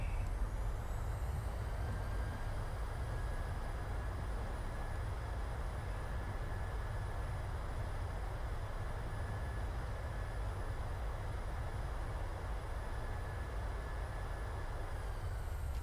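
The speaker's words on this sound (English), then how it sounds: "There we go. Reverse thrust." Reverse thrust on a PMDG 737-600 airliner in a flight simulator, heard as a steady, broad jet-engine roar with a faint whine above it, holding at a constant level from start to end.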